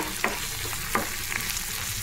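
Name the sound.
stirring ginger garlic paste into frying dry fish curry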